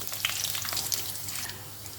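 Brief, crisp popping and spluttering of mustard seeds, chana dal and cumin in hot oil, quick irregular crackles up close over a soft sizzle.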